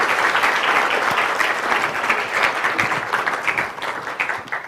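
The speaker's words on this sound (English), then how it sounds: "Please help me welcome Mike with a warm round of applause." Steady applause from a conference audience greets a speaker taking the stage at an English teaching conference, dense clapping that holds for several seconds before gradually thinning toward the end.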